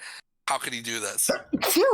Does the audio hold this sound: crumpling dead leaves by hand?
no